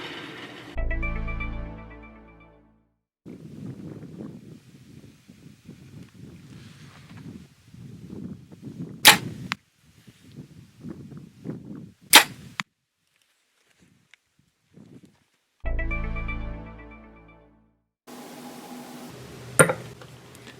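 Arrows tipped with Dirt Nap DRT 175 grain broadheads slam into a target, two sharp isolated impacts spaced a few seconds apart amid quiet outdoor rustle and wind, with louder mechanical bursts at the start and near the end.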